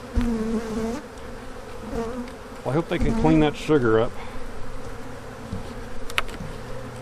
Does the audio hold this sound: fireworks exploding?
no